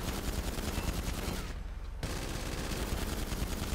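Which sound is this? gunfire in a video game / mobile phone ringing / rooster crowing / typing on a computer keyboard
gunfire in a video game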